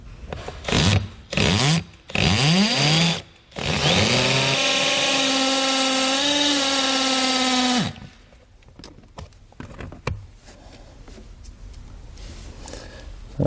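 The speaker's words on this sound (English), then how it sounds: "what we're going to do is drill. I'm going to use a step bit" A power drill with a step bit bores a hole in plastic while setting up a fuse bypass switch on a towed vehicle. Short bursts of drilling build into a sustained, loud, squealing whine that cuts off abruptly, followed by quieter handling noises.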